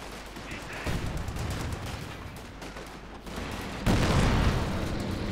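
Battle gunfire in the strategy game Company of Heroes 2: dense overlapping rifle and machine gun bursts with booming impacts, building louder toward the end, with a commentator talking over it.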